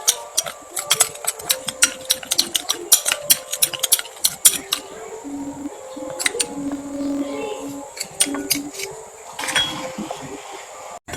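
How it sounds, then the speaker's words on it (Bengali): Coffee face pack ingredients mixed in a small bowl, producing quick, sharp ticking clinks of a spoon against the bowl, fast and irregular at first, then sparser, with faint background hum. "এই সব কটা উপকরণ আমি ভালো করে মিশিয়ে নেবো এইভাবে"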